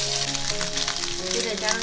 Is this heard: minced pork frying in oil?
yes